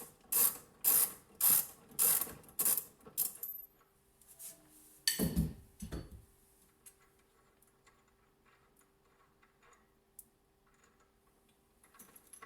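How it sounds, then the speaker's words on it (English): A quick ratchet loosening the bolts on a bass boat's jack plate gives several loud, evenly spaced clicking bursts up close, then a clunk and fading quiet handling sounds, with no talking. "This is a quick ratchet, so everything works perfectly."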